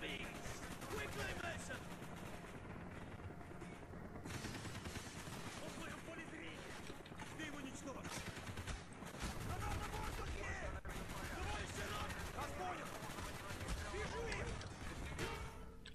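AK-47 gunfire in Call of Duty Black Ops: rapid automatic bursts and scattered shots crackle continuously amid game battle noise, with someone talking over the shooting at times.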